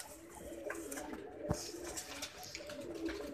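A 2019 mohar-marked pigeon coos softly through a short, faint clip, with low cooing under light background noise and one brief thump midway.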